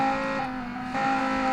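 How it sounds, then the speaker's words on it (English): Race car at Road Atlanta launching hard, a loud, close engine note holding a steady high drone with a brief dip and surge of revs over a second and a half, no voices. "I'm gonna launch my car for a little bit"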